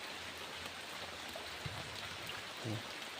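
Steady broadband rain hiss fills the whole stretch, with a couple of faint low thumps partway through.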